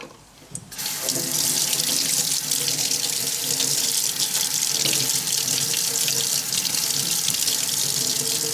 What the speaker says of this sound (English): You do need to rinse these parts really well at every single step.